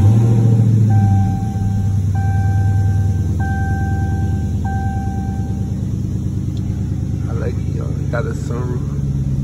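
Car engine cranking over and revving, a loud continuous rumble with repeated electronic chimes above it and people talking over the noise.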